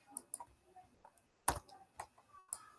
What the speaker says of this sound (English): I'm just typing it down.